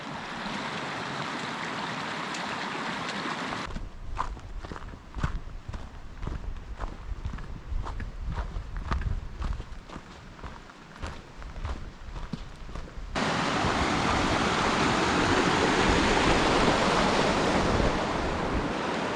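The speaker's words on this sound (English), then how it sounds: "And so begins the crossing of the streams." Mountain stream water flowing during a hike through the southwest corner of Rocky Mountain National Park, a steady broadband rush with footsteps crunching over the crossing, then louder close water noise near the end, with no talking.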